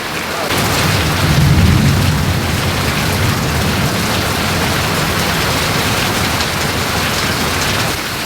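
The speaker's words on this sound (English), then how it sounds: "I don't know if you can still hear me because the rain is coming down" Heavy rain pours down outdoors as a steady, loud, dense wash of noise that holds evenly throughout, with no voices over it.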